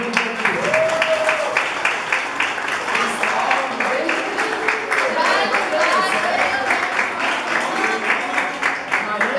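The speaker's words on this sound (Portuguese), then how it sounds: "merece essa saudação, essa salva de palmas" A crowd at an anniversary celebration applauds the staff with sustained, dense clapping throughout, mixed with voices talking and cheering over it.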